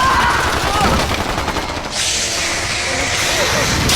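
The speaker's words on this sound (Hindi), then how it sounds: "गोलियां चलाते रहो।" Rapid automatic gunfire from an action movie scene rattles on continuously and loudly, a dense unbroken barrage with a brief dip before the volley picks up again.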